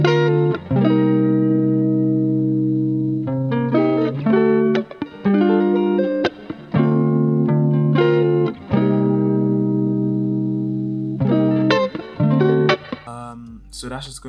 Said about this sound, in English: So that's just going through the guitar amp, it's a clean as a whistle preset.